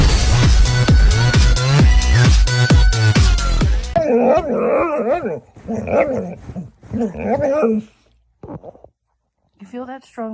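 A dog barking and whimpering, with busy music at first and then short, close yelps and whines broken by pauses.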